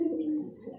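A male Kokka fancy pigeon in a cage gives a low, rolling coo, a single close call that swells and then trails off.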